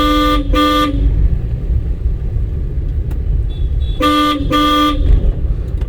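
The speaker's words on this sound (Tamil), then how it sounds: "ஹார்ன் அடிக்கணும்." A car horn honks twice during a driving lesson, then after a pause two more short blasts, loud over a low rumbling engine and road noise.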